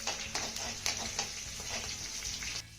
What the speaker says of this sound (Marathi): आता ही फोडणी आपल्याला अर्धा मिनिट चांगली परतून घ्यायची आहे.